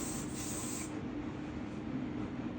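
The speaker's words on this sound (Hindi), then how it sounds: "हेयर स्प्रे कर दो" Hair spray misted onto styled hair during a salon hairstyle session, a continuous soft hiss lasting a couple of seconds, close and fairly quiet with no talk.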